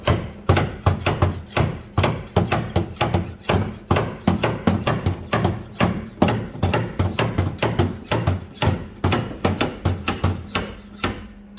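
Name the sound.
slide hammer striking car body metal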